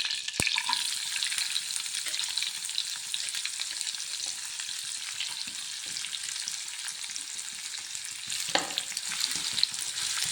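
Onions frying in sunflower oil with a small piece of butter in a pan, a continuous close sizzling hiss with faint stirring clicks and a brief pop near the start.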